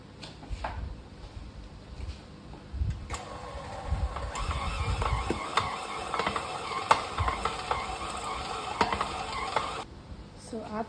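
A stand mixer kneads sourdough brioche dough, its motor grinding and rattling steadily with scattered clicks and knocks, then cutting off shortly before the end.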